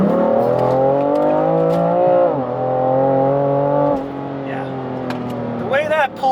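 A BMW F80 M3 Competition with a DCT gearbox pulls hard in its most aggressive drive mode, the engine note rising steadily and loud from inside the cabin, with quick shifts dropping the pitch before it climbs again.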